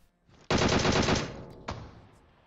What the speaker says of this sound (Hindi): वो बंदा दोबारा से फिर से हेडशॉट पेल देता है